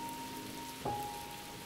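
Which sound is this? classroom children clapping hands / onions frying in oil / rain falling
rain falling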